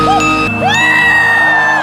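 Loud crowd at a concert screaming and whooping together, with sustained shrill yells rising and gliding over a steady roar of the audience throughout.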